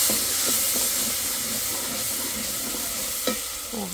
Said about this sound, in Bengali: তার আগে একটু পানিতে একটু কষায় নিই, কারণ নিচে মশলা লেগে আসছে